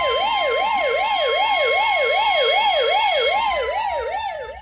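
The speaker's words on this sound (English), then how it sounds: "I called an ambulance, Billy." Ambulance siren wailing steadily with a fast rising-and-falling yelp, loud and close, holding for several seconds before fading at the end.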